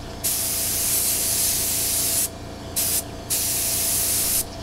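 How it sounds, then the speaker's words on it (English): Spray painting a Kawasaki motorcycle wheel during restoration, three loud, close hissing bursts of spray paint separated by brief gaps. "Spray with the wheel going that way and spray with the wheel going this way."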